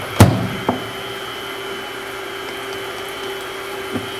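An electric mixer beats eggs with sugar in a kitchen, giving a steady, faint motor hum with a couple of sharp clicks near the start and one more near the end.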